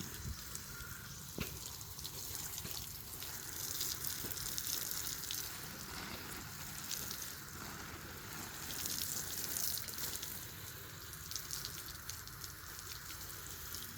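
Running water sprays onto flowering garden plants in the early evening, a faint, continuous hiss and patter holding steady throughout with no talking.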